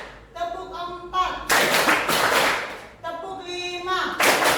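A group of students claps together in bursts, broad sharp bursts alternating with stretches of a voice leading the count, fairly loud and close in a classroom setting.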